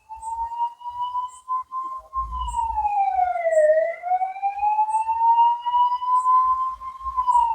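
An ambulance siren wails loudly and steadily, its pitch dipping and rising as it passes nearby, with light traffic rumble beneath.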